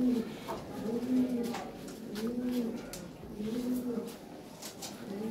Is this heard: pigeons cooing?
yes